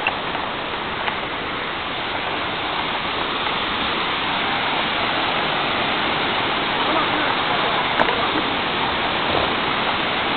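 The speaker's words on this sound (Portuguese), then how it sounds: "a gente termina aqui nosso registro da cachoeira" Waterfall on the Curuá River, a continuous loud broadband roar of rushing water that holds steady throughout without pause, with no voice clearly rising above it.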